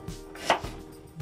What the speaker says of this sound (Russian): Так, режу всю соломку.